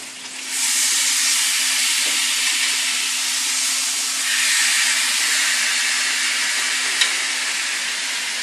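Pork pieces searing in a hot pan for Mexican pozole, giving a loud, steady broadband sizzle and hiss that swells after a brief quiet start and holds with slight surges, with no talking.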